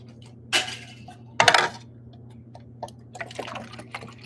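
Water is poured into a vessel in a New York City room, with a couple of sharp clinks of glass or container followed by soft, intermittent trickling and splashing.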